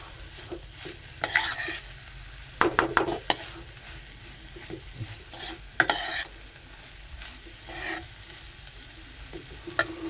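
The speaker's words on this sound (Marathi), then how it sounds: "परतून घेऊ चांगली" Ambadi (roselle leaf) greens are stir-fried in a pan, with a soft steady sizzle beneath irregular bursts of a spatula scraping and tossing the leaves, close by and without talk.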